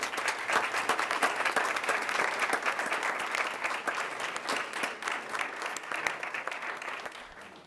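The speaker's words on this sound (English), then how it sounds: "Let's give a big round of applause for Kendra Liggett." Audience applause at a school board meeting, a dense, steady clatter of many hands that holds for several seconds and eases slightly toward the end, with no talk over it.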